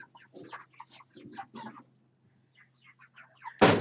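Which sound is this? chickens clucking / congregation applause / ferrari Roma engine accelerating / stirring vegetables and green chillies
chickens clucking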